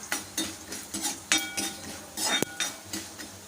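Spoon stirring urad dal, chana dal, asafoetida and mustard tempering in a pan, with repeated scraping and clinking strokes of cutlery against metal and a faint sizzle underneath, close and moderately loud.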